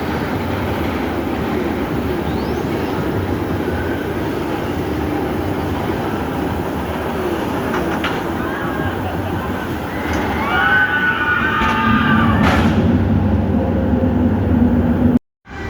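A drop roller coaster train at Alton Towers, opened in 1998 and running two trains, rumbles steadily on its track at a distance. The noise swells and gets louder near the end, with a brief screech-like overtone, then cuts off abruptly.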